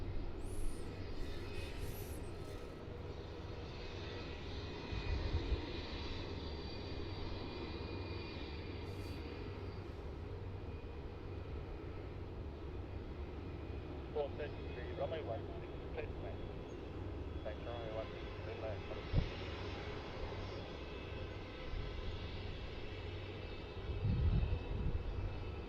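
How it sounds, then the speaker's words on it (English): A China Southern Boeing 787-9 Dreamliner rolls down the runway for takeoff at Melbourne Airport, its jet engines a steady, sustained rumble heard from a distance, with talk and radio chatter over it. "China Southern 322 now rolling runway 16, the 787-9 Dreamliner"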